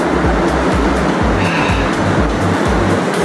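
Rough, rushing water churns loudly and steadily around inner tubes floating down a dark irrigation channel on Hawaii's Big Island, a close, continuous roar.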